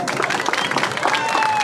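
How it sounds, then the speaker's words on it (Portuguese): Applause from a crowd at a São Paulo May Day protest rally, a dense continuous patter of many hands clapping with cheering voices mixed in. "Vamos receber com bastante palmas se quiserem."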